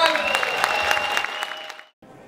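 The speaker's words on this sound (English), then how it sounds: "Let's give him a big round of applause." An audience at a fitness competition show claps for a celebrity photographer, a brisk burst of applause with a sustained tone underneath that fades out after about two seconds, followed by quiet.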